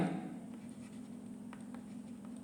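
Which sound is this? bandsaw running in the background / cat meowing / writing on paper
writing on paper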